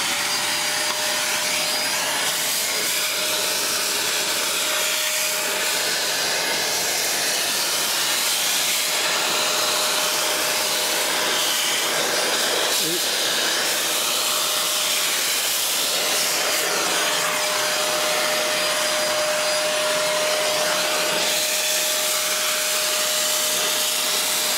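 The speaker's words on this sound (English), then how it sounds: "We're going to be hoovering up all of the ballast here." A vacuum cleaner hoovers loose ballast from a model railway layout, a loud, steady whining roar with a constant high tone that runs unbroken throughout, with no voices.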